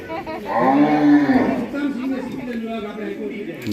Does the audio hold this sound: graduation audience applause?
no